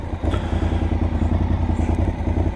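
A Honda VTR1000 SP1 motorcycle engine catches and settles into a steady, loud, throbbing idle close by, with no voices.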